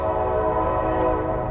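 A train horn about half a mile away blares steadily throughout, a rich sustained chord over low rumbling, loud and unbroken, with no talking.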